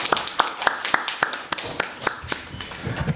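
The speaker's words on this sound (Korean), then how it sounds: "박수로 환영해 주시죠." Sparse audience applause in a conference hall welcoming a panel discussant at an academic foreign-policy forum, made of distinct individual claps at an uneven rhythm that thin out toward the end.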